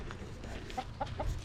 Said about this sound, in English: the chickens are underfoot